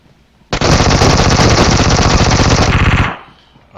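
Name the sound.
gunfire in the video game PUBG Mobile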